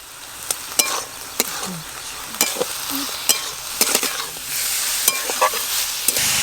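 Chicken with ginger, garlic and onion sizzles steadily in a pan, while a spatula stirs it with frequent scraping clinks against the metal, loud and close.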